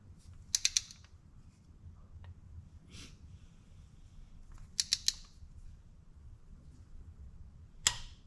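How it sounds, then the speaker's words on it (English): A torque wrench clicks sharply while tightening a spark plug on a 2016 Lexus NX200t, a few crisp ratcheting snaps in small clusters over a low steady hum, no voices. "That is the torque wrench letting you know that you have achieved tightness"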